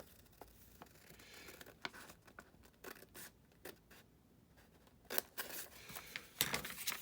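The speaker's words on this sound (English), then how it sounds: "Now you're just going to make this final cut up here to the blank side, just along that fold you just made" Scissors snip paper along a fold for a comic zine, giving quiet, close crisp cuts in an irregular run of separate snips with brief rustling between them and no talking.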